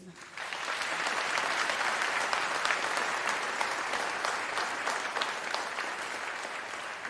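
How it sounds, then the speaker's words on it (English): A graduation ceremony audience claps in a sustained, resounding round of applause that builds quickly and holds steady, a broad hall-filling sound with scattered sharper claps standing out. "I thought Prof required even a more resounding applause"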